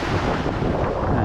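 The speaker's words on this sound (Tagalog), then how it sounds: "Medyo malakas na rin yung hangin niya." Strong wind buffets the microphone at a seaside fishing spot, a steady, loud broadband roar with gusty rumble and no other clear sounds.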